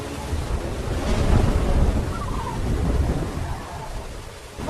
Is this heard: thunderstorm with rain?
yes